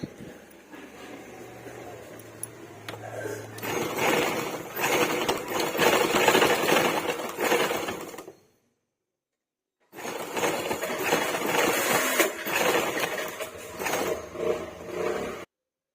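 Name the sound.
sewing machine stitching blouse piping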